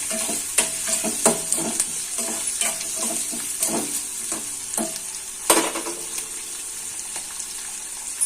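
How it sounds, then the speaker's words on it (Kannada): Garlic and onion sizzle in a pan with oil while a utensil stirs and scrapes in repeated sharp clinks, close and fairly busy, with no talking. "ಬೆಳ್ಳುಳ್ಳಿ ಇಷ್ಟನ್ನು ಚೆನ್ನಾಗಿ ಫ್ರೈ ಮಾಡೋಣ."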